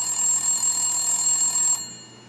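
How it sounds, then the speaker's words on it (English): A telephone rings with a steady electronic tone for under two seconds, then cuts off, fairly loud and alone. "Oh, the phone is ringing."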